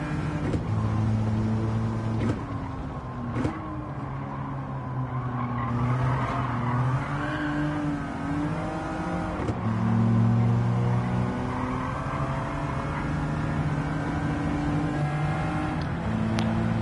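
A classic car in Gran Turismo 7 drives steadily with a droning engine, and the pitch steps down and back up through lift-off gear shifts. Brief tire squeals and faint transient clicks sit over the continuous engine note, and no one speaks.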